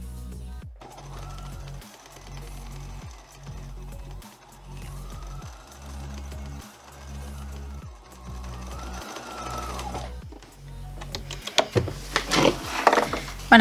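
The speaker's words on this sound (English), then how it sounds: "I'm going to start sewing along the top edge of one of the long sides" A sewing machine stitches a face mask seam with a low, steady rhythmic hum in several even runs with brief pauses, followed by a few clicks and rustles of fabric and thread handling at the end.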